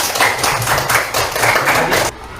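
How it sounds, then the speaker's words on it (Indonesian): A classroom of students applauds a presenting group, producing dense, close, steady clapping for about two seconds before it stops abruptly, with no voices over it. "Tepuk tangannya mana?"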